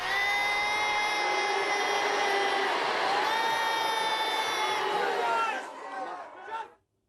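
A large arena crowd at the Billboard Music Awards booing, a loud sustained mass of voices holding for several seconds before it cuts off abruptly.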